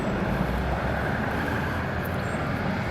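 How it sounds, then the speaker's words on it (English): A train runs past near Vickersway and Verdin Park in Northwich, a steady broad rumbling roar at close range with no other sounds over it. "You do get trains running past."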